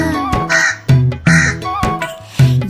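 A crow caws repeatedly in a Tamil children's nursery rhyme, with loud, regular calls set against the song's backing music.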